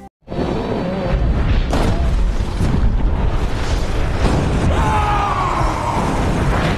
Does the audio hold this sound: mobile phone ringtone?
no